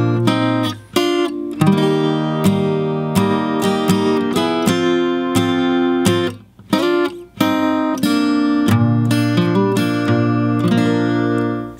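Guitar playing the intro of a song at a slow, steady pace, strummed chords and picked notes ringing out in sequence with a few short pauses between phrases.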